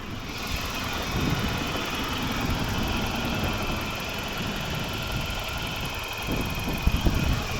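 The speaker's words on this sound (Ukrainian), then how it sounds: "Рівно тихо працює двигун." A 2005 BMW 316i petrol engine with automatic transmission idles with a steady, smooth hum at close range, with a few faint clicks near the end.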